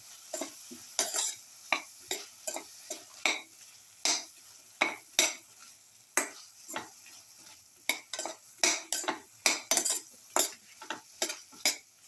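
A spoon stirs a winter melon yogurt raita mixture in a bowl, giving a steady run of quick scraping clinks and taps in irregular bursts, close and fairly quiet with no voices.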